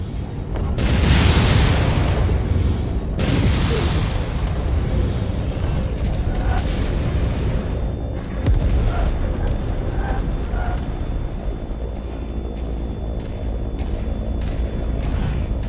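Mech weapons firing and heavy explosions in MechWarrior 5, loud deep booms and blasts in two big bursts, then continuous rumbling battle with metallic clanks and radio chatter underneath.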